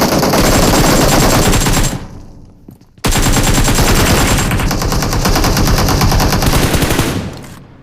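Rapid bursts of automatic gunfire from a BGMI battle royale match, loud and close. A long rattling volley dips briefly into a short pause, then a second sustained burst follows.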